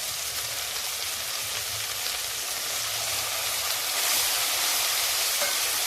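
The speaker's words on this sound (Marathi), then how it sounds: "आता हे आपण चांगलं परतून घेऊ" Spices for pea pulao sauté with curd and salt in a pan, giving a continuous loud frying sizzle and hiss close up, steady from start to finish.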